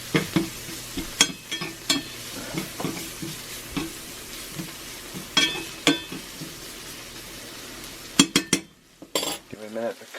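Flour cooking in fat for gravy in a cast iron pan, with steady low sizzling under repeated clinks and scrapes of a utensil against the iron, and some brief talk.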